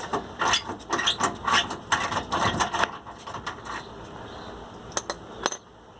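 A nut on a fine-threaded rear shock absorber stud of a Nissan Frontier truck is unscrewed, giving close, busy metallic rattling and clicking that thins out into a few sparse, sharp clicks.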